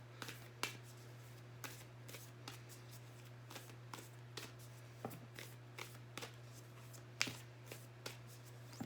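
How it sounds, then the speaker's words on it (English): Tarot cards being shuffled and drawn, a series of soft, crisp card slaps and flicks at an irregular steady pace, close but quiet over a low constant hum. "I'm going to pull one more card for pile two."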